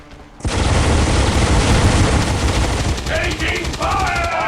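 Enemy gunfire in XCOM 2, a sudden loud sustained burst of automatic shooting with booming impacts, dense and close, thinning toward the end with faint voices underneath.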